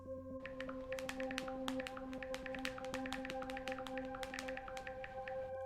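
Rapid, crisp clicking taps of acrylic nails in an irregular flurry, close up, over a faint steady hum.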